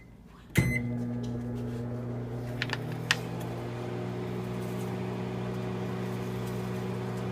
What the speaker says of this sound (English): Then we're gonna put it in the microwave.